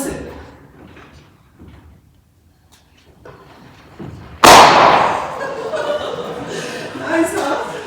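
Newly made firecrackers set off indoors, one sharp loud bang cutting through the room followed by crackling and rustling, with people chuckling and talking quietly before it.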